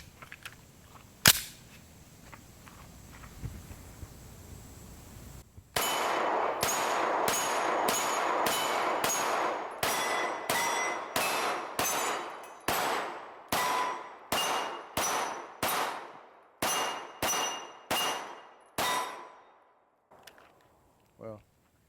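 Echelon 4.0c compensated pistol fired at a shooting range: one early shot, then a long steady string of about eighteen loud, sharp reports in quick rhythm with brief gaps, close to the listener.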